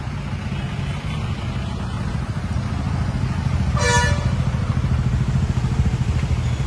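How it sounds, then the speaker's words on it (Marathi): Heavy traffic jam on a Pune street, with a steady dense roar of motorcycles and car engines throughout and a short, loud horn honk rising above the rumble near the middle. "भयानक ट्रॅफिक जाम आहे."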